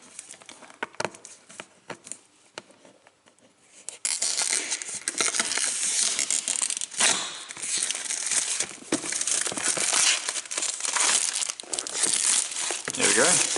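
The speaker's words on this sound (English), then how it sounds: "Now we'll just take off the plastic wrap that the box comes in." Plastic wrap is torn off the box of an Auscision Models C class model train, a few scattered crinkles at first, then loud, continuous crackling and tearing up close.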